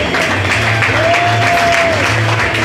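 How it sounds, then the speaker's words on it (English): Loud, continuous applause and crowd noise in a bar at a comedy showcase, dense and steady, with a brief tonal whistle or feedback riding over it. "Give me a round of applause for us leaving K-State"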